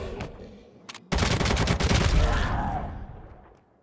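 Gunfire in the video game ZOZ: Final Hour: after a couple of brief isolated shots, a dense, loud burst of rapid automatic fire erupts and rattles on for over two seconds before tailing off.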